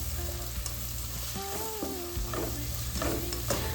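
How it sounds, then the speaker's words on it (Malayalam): Prawn biriyani masala with fried onions sautéing in a pan, a continuous close sizzle with intermittent stirring scrapes. "എന്നിട്ട് അത് നന്നായിട്ട് സോട്ട് ചെയ്യാം."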